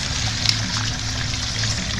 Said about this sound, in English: I got a second waterfall going now